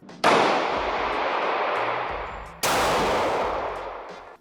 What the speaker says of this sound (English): I've got the Glock 40 caliber.